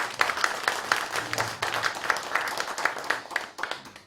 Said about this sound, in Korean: 이 대목에 박수 한번 주셔야 되겠습니다